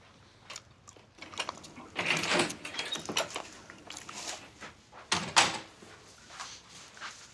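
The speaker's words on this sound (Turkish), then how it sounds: "Ayşe, aç kapıyı." An interior door is opened in a house, with a few clattering knocks and handle rattles followed by the creak and thud of the door, close by and alone.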